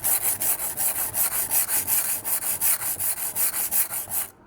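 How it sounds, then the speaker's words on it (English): Kitchen knife with a damaged edge and tip ground freehand on a sharpening stone, a rapid, even series of rasping back-and-forth strokes, about four per second, close and alone. "All you do is grind a lot of metal away"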